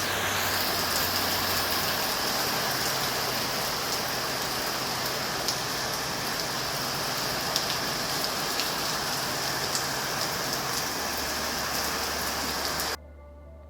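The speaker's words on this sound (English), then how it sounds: "not even just a light rain, but really heavy rains" Heavy rain pours down in October, a dense, steady hiss of drops hitting surfaces that holds evenly for about thirteen seconds before cutting off abruptly, with a low hum faintly underneath.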